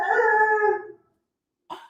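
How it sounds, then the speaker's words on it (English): Dogs howl together in a long, tonal wail that fades out after about a second. A fresh howl starts near the end of the clip. "Can you hear my dogs?"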